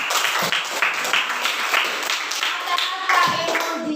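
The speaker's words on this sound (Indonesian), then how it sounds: "Tepuk tangan untuk kita semua." Classroom applause from a group of students, a dense patter of many hands clapping steadily for about four seconds, with a teacher's voice faintly mixed in underneath.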